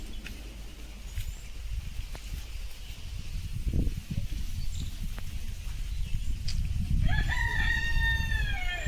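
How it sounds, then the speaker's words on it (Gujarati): A rooster crows from within a flowering tree outdoors amid nature, a single rising-and-falling call arriving near the end, moderately distant over a steady background of ambient noise and low rumble. "અંદર કુકડો પણ બોલે છે"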